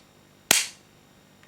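A single sharp metallic snap from a Ruger MKIII 22/45 pistol as the trigger is pulled on an inert dummy round, close and loud, then quiet, with a faint second click at the end.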